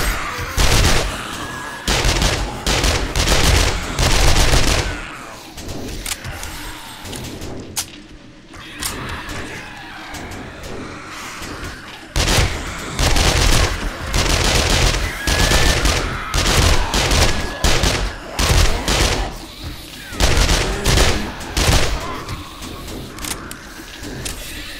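Bursts of rapid automatic gunfire from armor-piercing rounds in the zombie survival game 7 Days to Die, loud, repeated volleys broken by short pauses across the whole stretch, with a faint voice briefly underneath.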